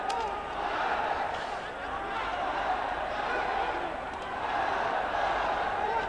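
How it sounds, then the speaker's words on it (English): A boxing crowd at a championship bout roars and cheers steadily for the champion's punches, a broad continuous wash of many voices rising and falling in waves, with no clear single shouts standing out. "the crowd signalling every punch that comes in from the champion"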